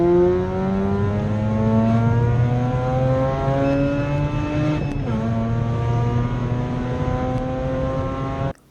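A Mazda RX-8 R3 edition with its rotary engine and manual gearbox drives steadily, a loud close engine drone with rising harmonics under acceleration and a brief gear change midway, no voices.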